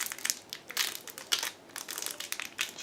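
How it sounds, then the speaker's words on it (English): A thin plastic bag holding scale-model decals and parts is pulled open by hand, producing a series of close, crisp crinkles and rustling bursts in an irregular rhythm, with no talking. "And now I'm trying to open this plastic bag."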